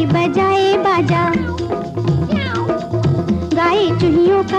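Cat-like meows rise and fall over the music and accompaniment of a 1958 Hindi film song, repeated in a lively rhythm and heard close and loud.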